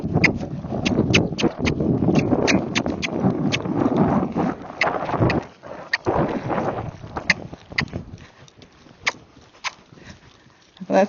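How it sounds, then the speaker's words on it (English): A gaited horse canters in an arena with rhythmic hoof thuds, steady and close at first and then sparser and fainter, over wind noise. "See if he knows how to canter."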